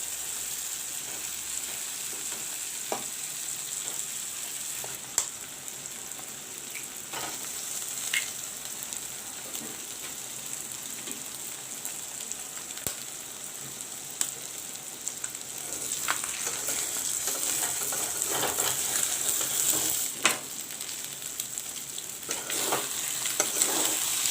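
Eggs frying in a pan with tomatoes, onions and chilies for egg bhurji, a steady close sizzle with occasional scraping clicks of stirring running throughout.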